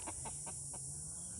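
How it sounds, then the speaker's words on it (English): Chickens clucking inside their coop on a small farm, a short run of four or five soft, evenly spaced clucks close by over a steady background hum, with no one speaking. "Oh, and the chickens are in their coop"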